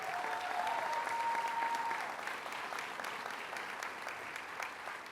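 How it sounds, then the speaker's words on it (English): An audience at a governor's announcement breaks into sustained applause, dense and steady clapping that fades slightly toward the end, heard from some distance. "Let's give them a round of applause."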